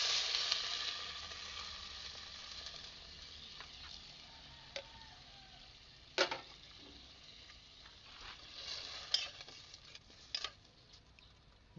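Sardines sizzle steadily in a pan while sautéed mung beans are cooked. A continuous, moderately quiet frying hiss is broken by occasional sharp pops and crackles, with no talking.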